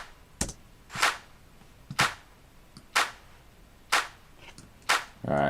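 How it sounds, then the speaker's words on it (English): Reversed clap sample in a music production session: about six swelling clap hits spaced roughly a second apart, each rising to a sharp cutoff, loud and dry with no voice. "just reverse my clap every 2 to 4, 8 bars just to give this little effect"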